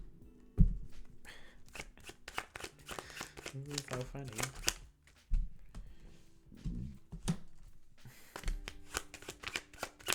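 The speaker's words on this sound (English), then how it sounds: "Y'all saw me shuffle these cards." Playing cards riffle-shuffled in quick bursts, close and crisp, with people talking and laughing over and between the shuffles.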